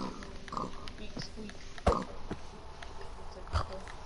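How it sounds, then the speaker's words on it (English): A Minecraft pig grunts and oinks in short separate bursts, a few louder squeals standing out over a quiet game background, with a person talking throughout. "Why is this pig climbing the vine?"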